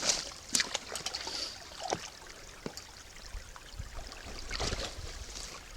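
A small trail stream trickles and burbles over rocks, close and fairly quiet, with scattered splashy knocks and clicks along the way.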